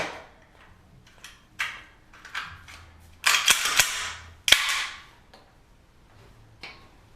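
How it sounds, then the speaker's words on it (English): A handgun slide with barrel being slid back onto the frame during reassembly: a run of sharp metallic clicks and scrapes, with two louder clacks as the parts seat, close and alone. "I'm going to reassemble the handgun. Putting the slide right back on top."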